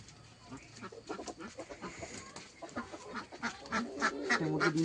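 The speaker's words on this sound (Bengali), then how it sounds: "তো মোরগ একটা ধরবো এখন" Chickens and a rooster squawk and cluck in a flurry of agitated calls while being caught by hand in a home yard, the noisy flapping commotion rising toward the end.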